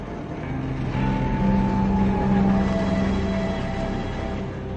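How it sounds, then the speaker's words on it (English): A train rolls along the rails in China after a long stop, giving a steady, close broadband rumble with faint tonal whines that holds throughout. "After a 2-hour stop, the train is rolling again."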